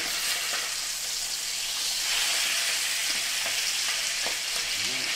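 Beef flank steaks sizzle steadily in a hot pan as they are turned for a tomato-tarragon dish, a dense continuous frying hiss with a few faint clicks of handling, close and alone without talk.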